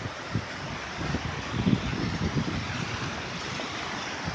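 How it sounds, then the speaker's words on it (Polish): Sea waves wash and break on the beach at White Rocks in Ireland, a steady rolling surf roar with slightly louder surges, heard alone without voices. "Zobaczcie, jakie fale się robią."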